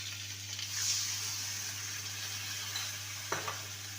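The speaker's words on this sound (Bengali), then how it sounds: "ভালো করে কষিয়ে নেব" Spice paste and tomato pieces sautéing for a brinjal curry give a steady soft sizzle, with a brief scraping stir near the end and no talk.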